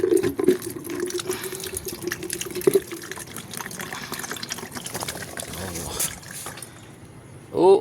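Water pours out of a freshly opened young coconut at midday, a soft trickle and splash heard close by beneath people talking.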